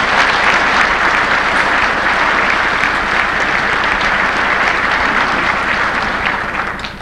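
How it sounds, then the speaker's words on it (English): A round of applause from an audience at a speaking event, dense and steady clapping lasting throughout and tapering slightly at the end, with no voices over it. "they deserve, and their staffs deserve, a round of applause"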